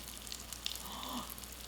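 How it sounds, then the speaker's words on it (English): Pop Rocks candy fizzes and crackles in a science demonstration, a faint continuous sizzle with tiny scattered pops lasting under two seconds. "I don't know if you can hear the sizzling and the popping"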